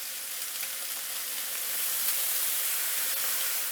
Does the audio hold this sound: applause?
no